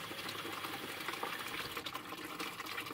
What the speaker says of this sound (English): And then we're going to flush all the crap that's in the radiator out through the bottom.